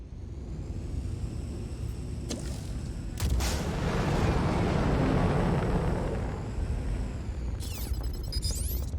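A missile striking a ship in Star Citizen during a Retaliator fight with two Eclipses, a swelling rumbling impact boom amid constant engine drone, with sharp metallic bursts before and after.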